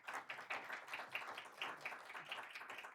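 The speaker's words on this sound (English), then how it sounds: "Please give them a round of applause" A panel audience at a Thursday evening healthcare event claps, a soft, fairly distant patter of hands that rises in small uneven swells.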